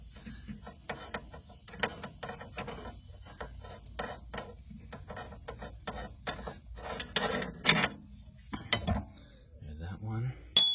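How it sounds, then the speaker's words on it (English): A long fine-thread strut bolt on a BMW 650i is unscrewed with a ratchet, giving irregular rapid clicking bursts and metallic clinks, fairly close and moderately quiet, with pauses between runs. "I'll unscrew this one for the strut. Fine threads, long ass bolt."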